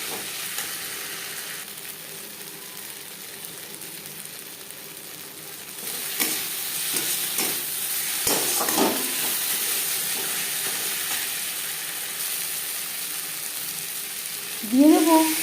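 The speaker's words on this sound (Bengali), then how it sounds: "পেঁয়াজের সাথে মশলা কষিয়ে নেওয়ার পর দিয়ে দেব 4-5 কোয়া রসুন।" Crushed garlic cloves hitting a pan of onion and spices frying for a Bengali fish malai curry, a steady soft sizzle that swells into louder crackling bursts, with a brief clink near the end.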